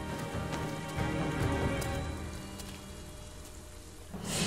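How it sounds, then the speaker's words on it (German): Steady rain pours in Rise of the Tomb Raider, a dense broadband patter on surfaces that holds throughout, dipping slightly midway before swelling again at the end, with no talk. "Es regnet"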